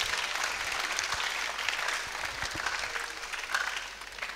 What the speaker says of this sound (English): Clap for this man.